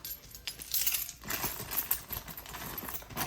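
A bunch of keys jangling, bright metallic clinks and rattles arriving in a few quick bursts, close by and fairly quiet.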